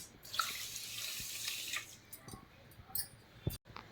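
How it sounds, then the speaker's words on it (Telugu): A glass of water splashes and trickles into a pot with a glass of sugar at close range for a few seconds, then fades into a few soft clinks and taps. "వాటర్ కూడా వేస్తున్నాను ఒక గ్లాస్."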